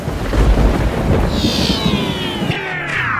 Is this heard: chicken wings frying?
no